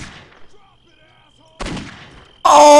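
A gunshot headshot in the video game Postal 2, with a sharp loud blast at the end following an earlier burst of noise, with no talk over it.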